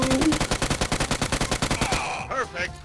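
Rapid automatic gunfire from the mobile battle game PUBG Mobile rattles off in a fast, even burst for about two seconds, then breaks off into quieter game noise and faint voices.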